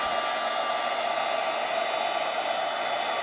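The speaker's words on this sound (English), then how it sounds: "let me get my embossing tool, my heat tool, and just heat that up." A heat tool for embossing blows hot air in a steady, loud, close whirring hiss with a fan whine, running unbroken throughout with no talking.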